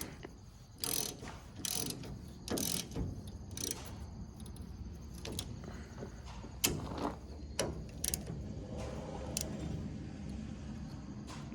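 A 10mm socket on a ratchet loosens small bolts on a combine bean head's sickle system, giving quiet bursts of rapid clicking with metallic taps and clanks in between, close by and without talking.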